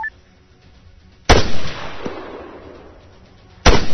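Gunfire in the video game Arma 3: two sharp, loud shots spaced a couple of seconds apart, each followed by a rolling decay over quiet background.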